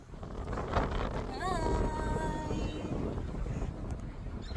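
Strong wind by the sea in Australia gusts hard enough to blow a hat off, roaring as steady broadband rumble across the whole stretch, with faint voices underneath.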